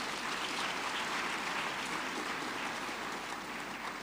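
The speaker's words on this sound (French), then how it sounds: "Je vous demanderai d'applaudir très très fort." Audience applause at a conference of West African First Ladies in Côte d'Ivoire, a steady, dense wash of clapping that holds at even loudness for the whole stretch with no voices over it.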